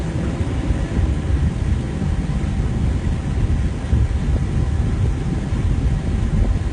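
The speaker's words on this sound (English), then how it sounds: "Check out this truck coming by us." A truck passes close by a moving vehicle on a town street, a loud, steady low rumble with broadband road and wind noise that holds throughout without talk.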